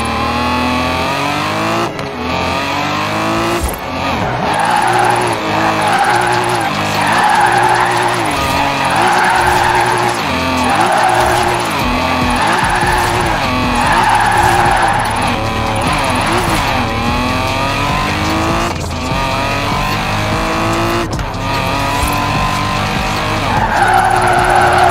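Tires squeal and skid continuously as a car drifts in the racing video game Forza Horizon 4, the engine loud and revving throughout, with long sliding screeches rising and falling over about twenty-five seconds.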